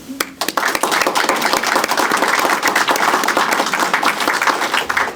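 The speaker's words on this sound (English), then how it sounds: "I ask that you face your families and applaud their time, effort, and support that they've given you" Loud, sustained applause from graduates at a U.S. Sports Academy 2023 commencement ceremony, dense clapping from a large crowd filling the whole stretch at even intensity.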